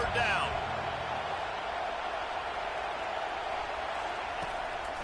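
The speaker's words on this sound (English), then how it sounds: "Decibels rising as the crowd gets behind this defense on 3rd down." A large football stadium crowd roars steadily on a third-down defensive play at an NCAA game, a dense, sustained wall of cheering with a commentator speaking over it.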